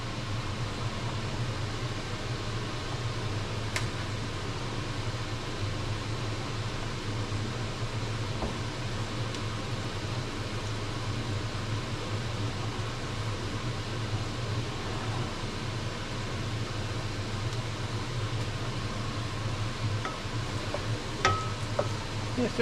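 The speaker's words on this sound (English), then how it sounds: "sorry for the noise, but my fan is kind of noisy." A noisy electric fan in a home kitchen drones with a steady, faint broadband whir and hum, constant throughout with occasional small clicks and no clear voices.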